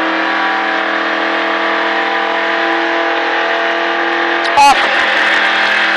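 A NASCAR stock car engine sits in a loud, steady high-pitched drone while the car accelerates, heard from close in the cabin. Near the end there is a short sharp thump, and a voice talks over the engine.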